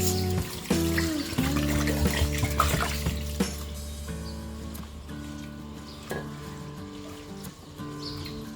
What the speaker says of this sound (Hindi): इन सबको हम पानी से अच्छी तरह 2-3 बार धो लेंगे।